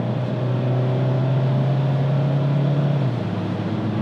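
Steady wind and road roar inside a Volkswagen Caddy cruising at 100 km/h, a constant low drone with a tonal hum that drops slightly in pitch near the end, no talk.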